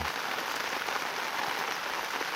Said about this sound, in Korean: 오늘은 비가 오네요